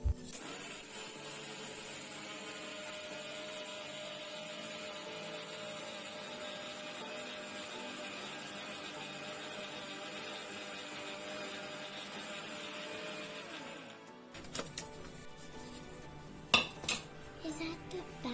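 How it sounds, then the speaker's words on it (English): A mixer grinder powdering sugar with five cardamom pods for khajoor, a steady whirring drone for about fourteen seconds that stops abruptly, followed by a few clinks and handling knocks. "Add 5 cardamom to the sugar and grind it till it becomes powdered sugar."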